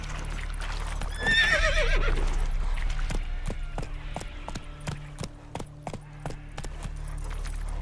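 Roach, the horse in The Witcher 3: Wild Hunt, lets out a loud close whinny early on, followed by a run of distinct hoof clops and jangling tack over a low game hum.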